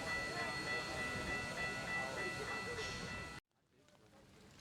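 The Empress 2816 steam train rumbles and clatters across a bridge over the Mississippi River into Sabula, Iowa, with a faint whistle and a murmur of voices, then the sound cuts off abruptly into quiet.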